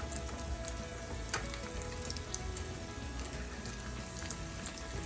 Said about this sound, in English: Get a nice sizzle starting